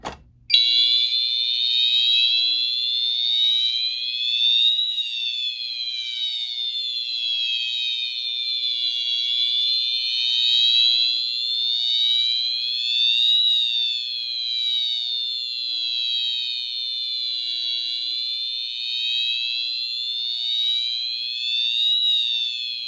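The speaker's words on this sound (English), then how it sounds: "we're going to go ahead and pull the other Pyrotronics pull station instead" A Fire-Lite MS-5UD fire alarm panel sounds after a Pyrotronics pull station is pulled. It gives a loud, continuous electronic whoop that sweeps up and down in a steady repeating cycle and runs unbroken for over twenty seconds with no talk.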